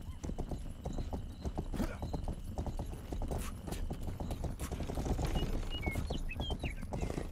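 Rapid, steady clip-clop of horse hooves trotting close by in a medieval video game, with a faint whinny and light ambient noise behind.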